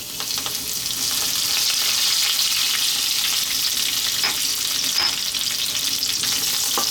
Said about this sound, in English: Then we're going to drop in our curry leaves.